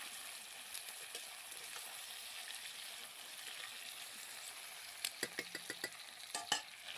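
Meat frying in a wok with a steady sizzle, then a run of sharp scraping clacks as a utensil stirs it near the end, close and without talk.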